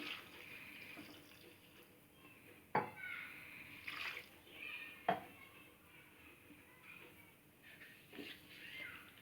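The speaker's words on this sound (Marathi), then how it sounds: "आता ह्याच्यात थोडं पाणी घालणार आहे मी" Water is poured into a pressure cooker of chopped breadfruit, toor dal and salt, a faint splashing trickle with a few soft clinks of the vessel, quiet and close.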